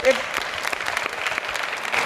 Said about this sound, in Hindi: तालियां बहुत बार।